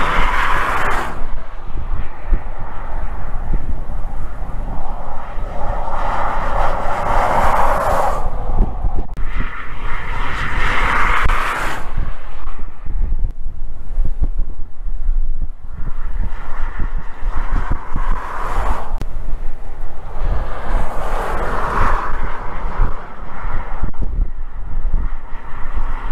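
Strong dust-storm wind roars across a New Mexico highway at night, a loud, constant buffeting rush against the microphone that swells and eases in broad gusts, with a low rumble underneath.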